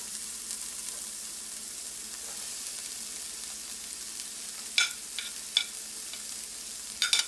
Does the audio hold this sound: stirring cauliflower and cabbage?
yes